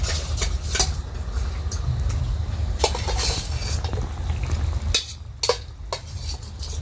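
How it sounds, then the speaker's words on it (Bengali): Fish pieces go into a boiling fish curry on a clay stove: steady bubbling and simmering with several sharp metallic clinks and scrapes of a utensil against the pot. "ঝোলটা রেডি, এই যে ফুটে এসেছে, এবারে মাছগুলো আমি এর মধ্যে দিয়ে দিলাম"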